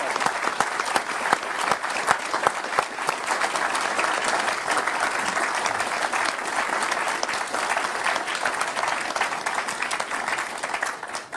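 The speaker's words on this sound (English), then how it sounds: "Ladies and gentlemen, please help me give a round of applause" A large audience applauds steadily at a formal speaker series event with a visiting president, dense sustained clapping filling the room for about eleven seconds without a break.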